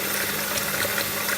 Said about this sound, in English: So this is the 2 cups of rice, and I'm just going to get some water in there.